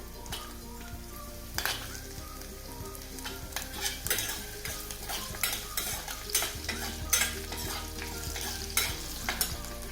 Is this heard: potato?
yes